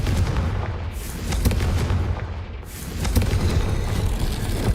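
Confringo fire spell blasts in Hogwarts Legacy, loud booming bursts layered over rumbling game ambience with no voices, one surge early and another building after the midpoint.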